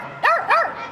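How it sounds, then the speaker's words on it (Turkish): A dog at a mountain site in Tibet gives two sharp, close barks in quick succession, loud and clear, with brief quiet before and after. "Ha, köpekmiş."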